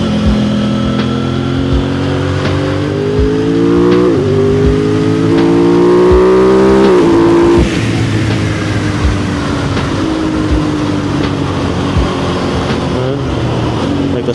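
A motorcycle with a quick shifter accelerates hard on an open road, the engine note climbing through several quick upshifts with brief dips between gears, loud and close over steady wind noise.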